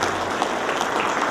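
Applause filling a conference hall at a union education meeting, a dense, continuous patter of many hands at steady loudness throughout.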